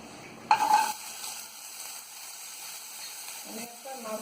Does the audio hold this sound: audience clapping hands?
no